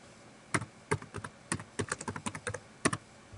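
Someone types a note on a computer keyboard, producing a quick run of close, crisp key clicks in an irregular rhythm with short pauses.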